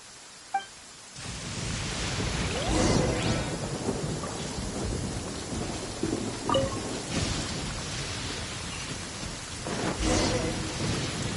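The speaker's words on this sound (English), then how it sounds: "Uh-oh! Lightning storm!" In Genshin Impact, steady rain hisses over the landscape as a lightning storm breaks, with several rolling thunder rumbles swelling through the downpour.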